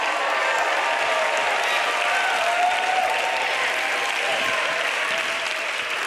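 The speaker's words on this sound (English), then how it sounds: "Stomp your feet," Continuous loud applause and cheering from a crowd at a lively motivational session, a dense, even roar of clapping hands holding steady for the full stretch with faint voices mixed in.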